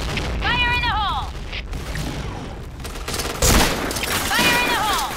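A grenade blast and gunfire in the shooter video game Point Blank: one heavy, loud boom midway through a dense, continuous clatter of shots, with synthetic in-game voice callouts heard before and after the blast.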